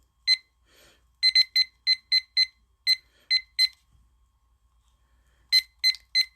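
A timer alarm beeps in short bright pulses, first a single beep, then a rapid run of about seven, a few more after a pause, and a final cluster of three, loud and clear against near silence.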